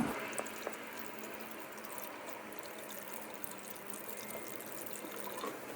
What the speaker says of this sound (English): Now we can start pouring in some of this distilled water,